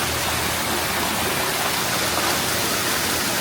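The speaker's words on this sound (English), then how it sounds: "It was a little trickle a second ago, and the water just came crashing down." Water crashes down an indoor desert-exhibit waterfall at a natural history museum, a loud, dense, steady roar of falling water with no voices.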